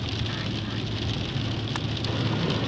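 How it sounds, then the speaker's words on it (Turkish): Steady rain drumming on a moving car during a driving lesson in second gear, a dense, continuous hiss and patter with low road rumble underneath. "Yağmur yağmasına rağmen"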